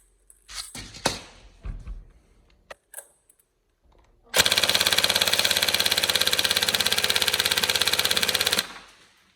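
A TM 416 NGRS airsoft gun with an A5 grip and stock fires one long full-auto burst, a loud, fast, even mechanical rattle lasting several seconds. A few scattered handling clicks and knocks come before it.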